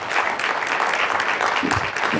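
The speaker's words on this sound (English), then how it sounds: "let's give her a round of applause for the work that she has done" An audience at the National Press Club applauds, a full, even burst of clapping from many people throughout the short stretch.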